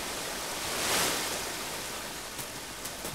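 Waterfall in the video game Uru, a dense, steady rushing roar of falling water that swells briefly and then holds constant, with no voices.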